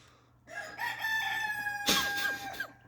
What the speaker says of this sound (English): sorry about the roosters